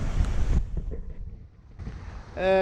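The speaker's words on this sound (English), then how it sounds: "We've been sailing for about an hour or so." Sailboat under sail in rainy coastal weather, gusting wind buffeting the microphone with loud rushing bursts, a quieter lull, then rising wind again.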